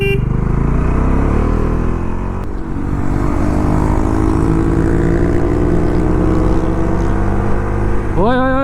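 Busy street traffic at a secondhand market, with car and motorcycle engines rumbling close and continuously, one engine revving sharply at the end.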